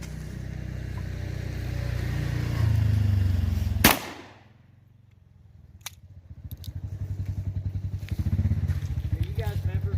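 A 12 gauge Weatherby Reaper tactical shotgun fires a single sharp, loud blast at an outdoor range, followed by a quieter stretch and then renewed background noise.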